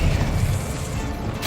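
A Hogwarts Legacy spell blast, such as Incendio or Expelliarmus: one loud, deep, rumbling boom that holds for about a second and a half before cutting off.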